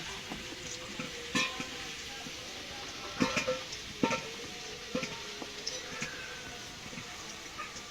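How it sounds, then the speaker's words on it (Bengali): Potato pieces stirred and fried in a pan, with a soft continuous sizzle and scattered clinks and scrapes of the spoon against the pan. "নাড়াচাড়া করে আলুগুলো লাল লাল করে ভেজে নেব।"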